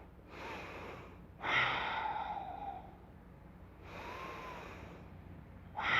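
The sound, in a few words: breathing during yoga class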